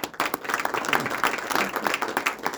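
A concert crowd claps for the soloists of a youth jazz ensemble, dense, uneven applause that stays fairly loud and close from start to finish.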